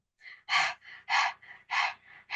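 A voice imitates heavy panting, alternating loud, breathy exhales with softer inhales in a quick, steady rhythm, close and alone.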